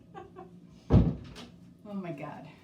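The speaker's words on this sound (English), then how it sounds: "I'm gonna shut the door because I can't talk and listen to that." A door swings shut indoors with one solid, fairly loud thud, set between stretches of someone talking nearby.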